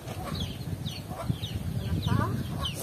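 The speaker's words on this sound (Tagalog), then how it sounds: "Ayan na, yung mga manok." Chickens cluck repeatedly nearby on a rural Philippine farm, several birds calling in short bursts over outdoor background noise.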